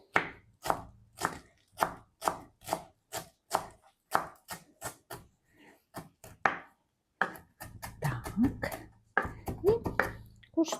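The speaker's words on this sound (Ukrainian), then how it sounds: "я би додала кінзи. Але це на ваш розсуд. Посікли дрібненько." Fresh cilantro finely chopped with a knife on a board for a meatball soup, a steady run of sharp close taps, then looser, uneven knocks toward the end.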